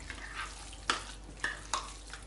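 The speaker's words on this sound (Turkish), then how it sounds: "Karıştıralım. Kabak ve havucumuzu yoğurdun içine katabiliriz artık. Güzelce harmanlayalım." A spoon stirring grated zucchini and carrot into yogurt, giving a few soft, wet scraping strokes spaced about half a second apart, close and quiet with no talking.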